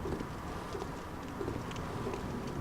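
Crows calling in the dark world of the video game Bloodborne: soft, cooing bird calls repeat over a steady bed of ambient game noise, moderately quiet and without speech.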